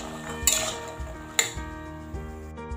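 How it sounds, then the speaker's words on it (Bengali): Bottle gourd and boiled peas being stirred together in a pan, with a few distinct metallic spoon knocks and scrapes against the pan over a low background hum. "ভালো করে মিশিয়ে নেব।"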